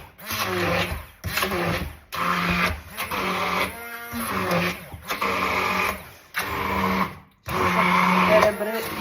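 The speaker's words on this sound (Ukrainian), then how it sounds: "Тепер погружним блендером" A handheld immersion blender whirs through a lentil mixture in repeated bursts, grinding loudly for a second or two, pausing briefly, then starting again several times.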